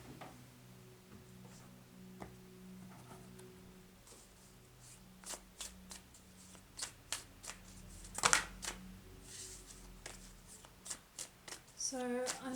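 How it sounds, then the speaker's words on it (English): An oracle card deck being shuffled by hand, a series of soft riffling bursts and taps that come and go, close and fairly quiet. "So I'm shuffling a deck"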